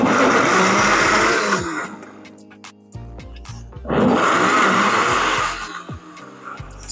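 A countertop blender on its frozen setting whirs loudly at high speed in two long bursts, separated by a short pause, then winds down to a low hum.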